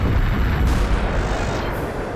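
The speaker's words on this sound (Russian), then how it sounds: "Слишком громкий взрыв все-таки." A loud magic explosion in the video game Konosuba, a booming burst already under way that decays into a dense, rumbling roar over a couple of seconds, with no speech.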